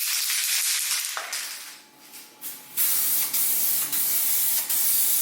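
Spray paint hissing from an aerosol can while laying down a second, heavier coat, in several close, loud bursts separated by brief pauses, with no talking.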